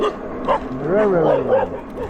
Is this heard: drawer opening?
no